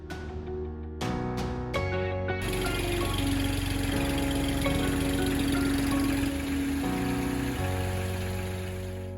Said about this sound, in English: Yes, we bought the tractor